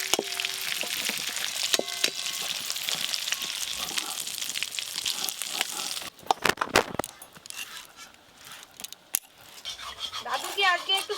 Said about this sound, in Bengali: ফুলকপিগুলো খুব ভালো করে ভাজা হয়ে গেছে